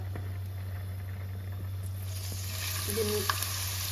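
Potatoes fry in a pan for aloo bhaji, a soft, steady sizzle heard close up with a constant low hum underneath and a few faint clinks, no talking.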